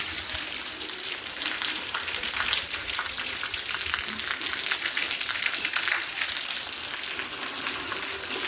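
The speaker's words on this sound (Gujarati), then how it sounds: "આવો વરસાદ શરૂ થઈ ગયો" Heavy downpour at the Botad market yard, a dense, steady hiss of rain pounding surfaces with no letup, loud and close throughout.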